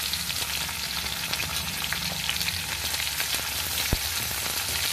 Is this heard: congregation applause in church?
no